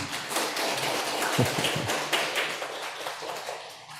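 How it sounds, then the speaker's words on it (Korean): A church congregation gives comforting applause during a Sunday morning service in Busan, a fairly even patter of clapping with a few louder thumps and scattered voices mixed in. "박수로 위로."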